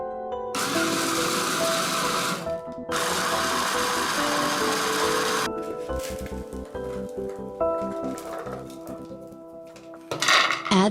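A kitchen blender chops oatmeal and cornflakes in two loud whirring bursts of a few seconds each, followed by quieter clattering and mechanical rattling of the jar and lid.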